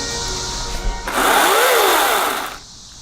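A power saw cuts the sharp wooden edges off a homemade indoor water slide, revving up into a loud, sustained whine with a rising and falling pitch for about a second and a half before cutting off.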